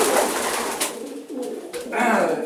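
Pigeons coo in a loft, a steady murmur of soft, overlapping calls close by, with faint voices and rustling mixed in.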